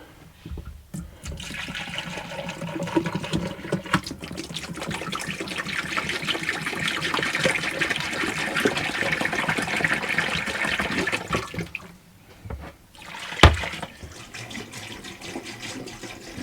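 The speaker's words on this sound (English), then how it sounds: "put some warm water down there" Warm water pours and gurgles down a caravan shower drain in a Swift Kon-Tiki 784 motorhome, a steady close trickle and rush that stops, then resumes briefly with a clunk.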